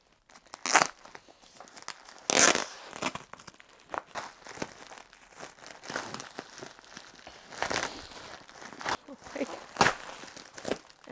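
Plastic packaging crinkles and rips in bursts as it is pulled open by hand, close up, with rustling between the louder tears.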